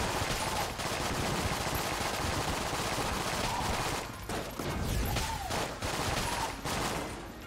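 Dense, continuous bullet fire from Enter the Gungeon, a rapid stream of overlapping shots that barely lets up for several seconds, loud and close with a few brief dips in intensity.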